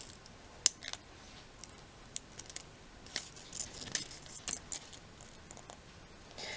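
Scissors snip through paper to trim one end of a heart rosette template, giving scattered small crisp clicks and cuts at close range, quiet over a faint background hiss.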